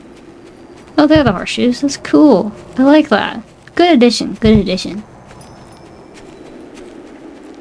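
Horseshod hooves clip-clop through snow in the online horse-riding game Star Stable, soft rhythmic steps largely under a person talking, then faintly alone afterward.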